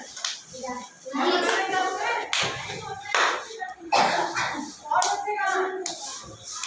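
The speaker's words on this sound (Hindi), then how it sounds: "जोरदार तालियां" A group of children in a classroom claps in short, uneven bursts separated by brief pauses, with a teacher's voice and children speaking between and over the claps.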